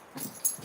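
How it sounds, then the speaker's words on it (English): A couple of short dog sounds, a bark or yelp followed by another a moment later, faint and somewhat distant. "But you might hear some barking"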